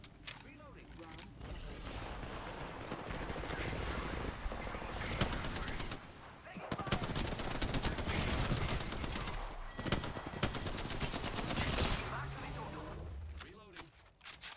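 Gunfire in the battle royale game Apex Legends: sustained bursts of automatic weapon fire, fairly loud but compressed, alongside game voice announcements and a player talking.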